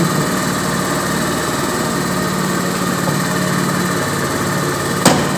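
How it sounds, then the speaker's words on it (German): A steady motorcycle engine idles continuously with a low, even rumble, followed by a brief click near the end. "ja, der Motor bleibt an"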